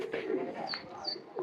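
A Teddy pigeon, a Kamagar cross, gives soft, throaty coos close by, repeated in short rounds against a murmuring background.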